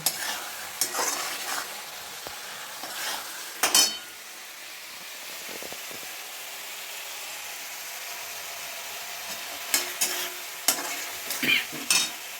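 Chicken ghugni frying over raised heat in a pan, a faint steady sizzle with occasional scraping and clinking stirs of a spoon against the pan, no talk.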